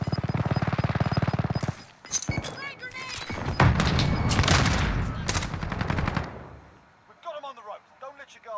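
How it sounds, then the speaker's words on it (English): Rapid automatic gunfire rattles in a tight stream before a grenade blast in Modern Warfare erupts into a long, loud rumbling boom with debris, then shouting voices take over as the noise dies away. "Grenade!"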